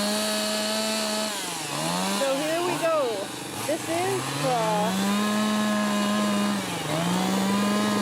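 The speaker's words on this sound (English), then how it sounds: "We have happened upon the chainsaw competition, carving competition." Chainsaw cutting into wood at an outdoor chainsaw carving competition, a steady buzzing engine drone running beneath someone talking close by throughout.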